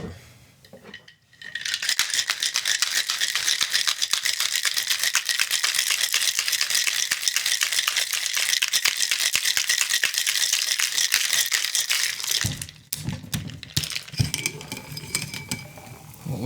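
Ice and liquid rattle hard inside a cocktail shaker while a Michael Collins Dublin Apple drink is mixed, a steady, loud, close shaking sustained for about eleven seconds before stopping abruptly, followed by a few lighter knocks.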